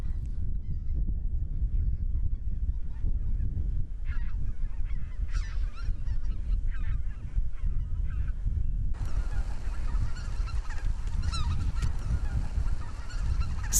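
A large flock of migratory winter geese honks continuously at a distance, many overlapping calls layered over steady low wind rumble, with no talking.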